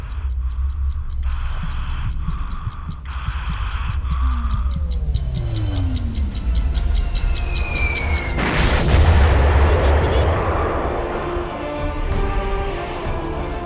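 A SCALP cruise missile launches from a Rafale fighter jet, a sudden roaring burst that swells into a sustained loud rumbling whoosh over steady aircraft noise, with no speech.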